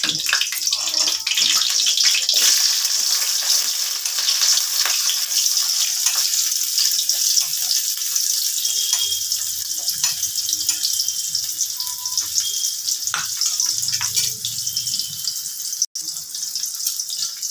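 Onions fry in white oil with garlic for paneer bhujia. A loud, continuous hissing sizzle holds steady throughout, with occasional faint clicks and no voices.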